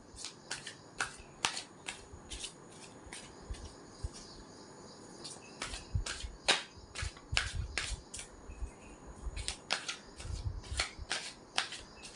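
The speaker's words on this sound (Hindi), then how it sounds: "और हम कार्ड्स शफल कर लें, फिर निकालते हैं।" A deck of tarot cards is shuffled by hand, repeated crisp riffling snaps and flutters in uneven bursts, close by over a faint background hum with insect chirps.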